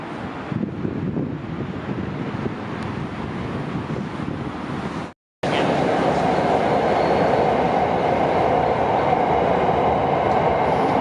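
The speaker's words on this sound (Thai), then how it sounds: "รถไฟฟ้าสายสีแดงออกจากสถานีบางซ่อนครับ" A Red Line electric commuter train rumbles steadily with a broad roar departing Bang Son station in Bangkok, briefly cutting out before resuming louder as it pulls away, wind buffeting throughout.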